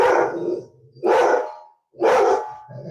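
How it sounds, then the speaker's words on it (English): A dog barks three times indoors, loud and close, each bark full and slightly drawn out, spaced about a second apart. "Apologies if you hear my dog barking."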